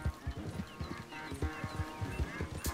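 Horses gallop during a race in Red Dead Redemption 2, rapid rhythmic hoofbeats close by, pounding in a quick steady pattern with faint neighing and a sharp burst near the end.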